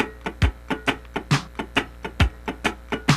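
Muted funk rhythm guitar scratching swung sixteenth notes over a drum machine, a steady run of crisp percussive strums with heavier accented hits, loud and close.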